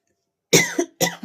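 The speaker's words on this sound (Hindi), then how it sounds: "तो हल्की हल्की खांसी तो मुझे भी है।" Two sharp, close coughs in quick succession after a short silence, each with a raspy tail.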